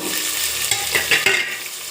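Chopped tomatoes tossed into a pan of golden fried onions for a prawn and okra curry, giving a steady hiss of frying with a few stirring scrapes, close and continuous, with no voices.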